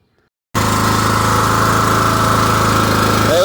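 A riding lawn mower's engine starts abruptly after a moment of silence and runs at a loud, steady drone, close by, with no talk.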